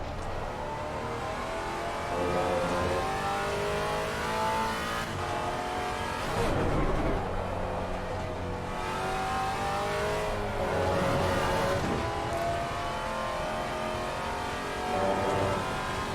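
A GT4 race car engine in Assetto Corsa Competizione roars steadily and loud, rising and falling through repeated revs and gear changes over sixteen seconds, with no talk.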